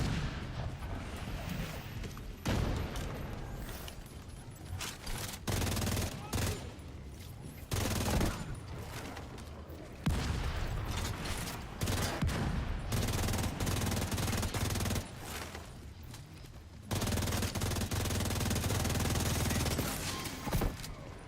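Mortar blasts and sustained automatic gunfire from the video game The Division 2, loud, dense and continuous, with bursts and booms layered throughout and a voice briefly heard over the combat.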